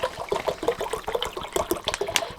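Water from a bottle gurgling and splashing into a freeze-dried meal pouch from a ReadyWise 72-hour kit, a close, uneven glugging pour with bubbly pulses.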